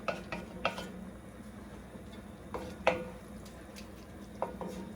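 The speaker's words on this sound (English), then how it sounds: "we're going to scrape the bottom and the sides" A spoon scrapes across the bottom and sides of a pan of spicy Italian sausage rice with cauliflower, giving several sharp scraping and clinking strokes at irregular intervals over a low background hum.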